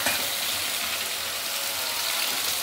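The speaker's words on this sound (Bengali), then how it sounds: "আলুগুলোকে লাল লাল করে ভেজে নেবো" Potatoes frying in a kadai make a steady, dense sizzle with fine crackling that holds level throughout, close up, with no talking.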